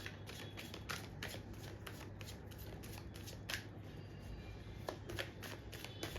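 Tarot cards shuffled and drawn by hand, a steady run of soft riffling flicks with a few sharper card snaps, close and fairly quiet over a low background hum.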